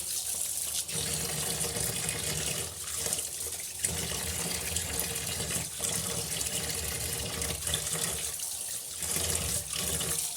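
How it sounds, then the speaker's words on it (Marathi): Water runs steadily from a tap while fresh Bombay duck and mackerel are washed in a sink, a continuous close splashing rush with slight surges and no talk. "आता हे बघा आपण छान धुवून काढलेले आहे मच्छी"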